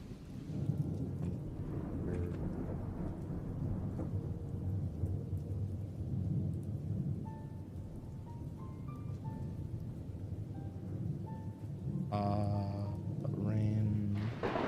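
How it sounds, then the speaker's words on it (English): Steady rain and low rumbling thunder of a late-night storm fill the whole stretch, with faint tonal sounds drifting over the continuous wash. "Rain."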